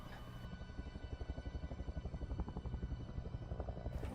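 A helicopter flying away in a zombie film, its rotor beating in a steady rapid low thump that rises and stays loud throughout, with no voices over it.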